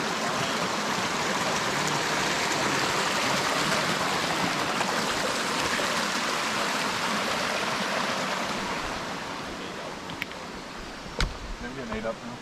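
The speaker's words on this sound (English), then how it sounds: "Creek crossing, getting a little wider, but a really nice area right here with a little waterfall over there" A creek in the Smokies with a small waterfall nearby: a steady, full rush of flowing water that stays constant throughout and softens slightly toward the end, with a few faint clicks.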